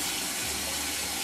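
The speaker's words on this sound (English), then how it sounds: "I cut all the veggies and then I dump it into the sink where there's water to wash everything." Water gushes steadily into a kitchen sink as cut vegetables are washed in it, a loud, continuous splashing rush with no voices.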